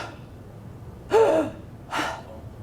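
A voice imitates agonal breathing during a CPR training demonstration: two loud, harsh gasping breaths spaced about a second apart, close to the microphone over a quiet room.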